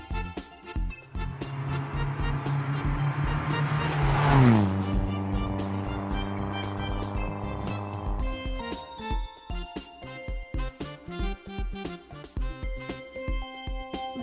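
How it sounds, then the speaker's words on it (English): Toy off-track car sound effect for children: loud continuous engine revving with a rising pitch sweep and tire squeal around the middle, then steady motor tones with rhythmic accents to the end, no talking. "Off-track car."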